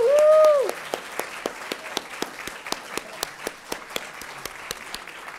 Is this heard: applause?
yes